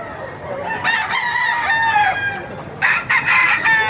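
Several roosters crow in overlapping calls at a busy Baliuag tyangge poultry market, loud and near, one long crow followed by another starting near the end amid clucking hens.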